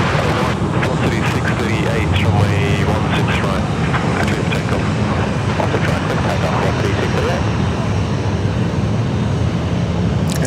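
A United Boeing 777 airliner roars continuously at Sydney Airport, a loud broad engine rumble with wind-like noise, while someone talks over it.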